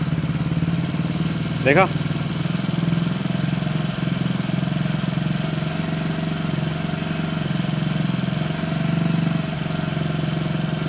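A motorcycle engine idles steadily while its carburettor is adjusted, a close, even rumble that holds under someone talking over it.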